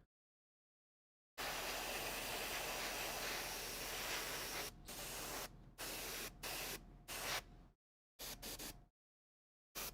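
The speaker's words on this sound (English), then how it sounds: "is that a Monument airbrush? No, this is a Iwata HPCS." Iwata HPCS airbrush spraying paint onto a miniature model, a steady close hiss that runs for several seconds, then breaks into short on-off bursts separated by silences.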